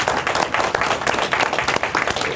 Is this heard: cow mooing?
no